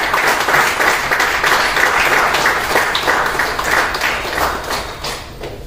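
Loud, continuous applause from an audience welcoming a guest to the stage at a gathering, many hands clapping in a dense rolling texture that holds steady for several seconds before easing slightly.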